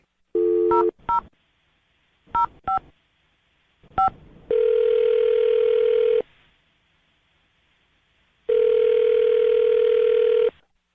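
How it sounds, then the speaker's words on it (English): Several quick touch-tone beeps from dialing, followed by two long, steady tones separated by a pause, loud and close. "I'm going to dial the phone number right now."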